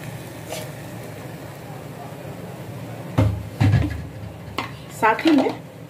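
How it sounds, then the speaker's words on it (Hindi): Grated coconut is put into a kadhai and stirred: a low background hum, then a few distinct scraping clunks of a spoon against the metal pan, with a voice briefly present. "अब एक कढ़ाई बैठाएं और इसमें आप डाल लें इस नारियल को।"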